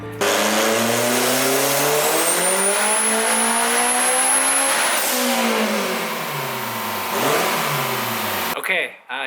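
Turbocharged K24 engine revving hard through a full tuning pull, loud and close, with a rising whine and climbing harmonics before the revs fall off near the end.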